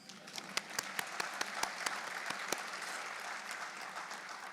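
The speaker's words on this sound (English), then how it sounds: "It's okay to clap." Scattered audience clapping at an award ceremony, a handful of sharp individual claps over a soft, steady background murmur, moderately distant and fairly quiet.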